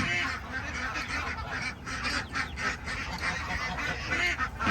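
Geese and ducks in a noisy farmyard flock, with a large gander honking among them; repeated honks and quacks overlap continuously at moderate loudness, close and busy throughout.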